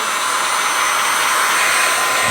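A hot air blower heats shrink wrap on a trail camera, giving a loud, steady rushing whoosh of air with no breaks or voices.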